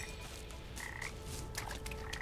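Frogs croak steadily in the video game Papo & Yo, a dense continuous chorus of rasping calls with no talk, moderately loud and close.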